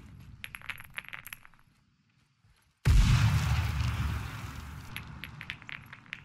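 Frag grenades detonate in a Ground Branch PvP match, a sudden loud, close blast that cuts in after a near-silent pause and rolls into a long rumbling tail, with sharper distant cracks and gunfire-like pops trailing behind.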